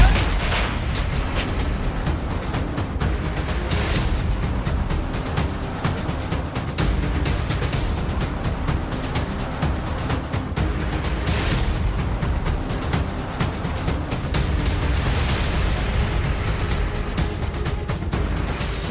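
Artillery shelling near a village in Mankot tehsil of Poonch district, heard as a dense, continuous barrage of booms and rumbling blasts that fill the air loudly without pause, with no voices over it.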